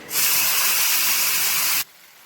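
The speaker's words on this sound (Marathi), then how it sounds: "त्यानंतर चिंचेचं पाणी टाकायचं।" Tamarind water hits a hot pan with a sudden loud, steady hiss of sizzling that holds for nearly two seconds, then cuts off abruptly to near quiet.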